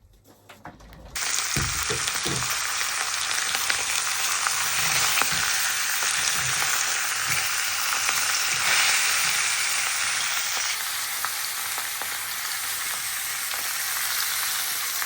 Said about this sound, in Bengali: একবারে পাঁচফোড়ন দিয়ে শুকনো মরিচ দিয়ে বসায় দিলাম।